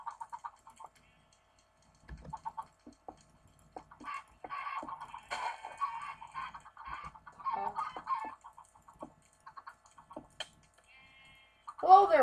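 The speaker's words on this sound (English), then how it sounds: "and then chickens show up" Chickens clucking in Minecraft with a Lucky Blocks mod, scattered short clucks under talk and rapid computer keyboard typing, with denser clucking in the middle and a louder call at the end.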